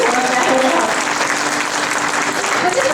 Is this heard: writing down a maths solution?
no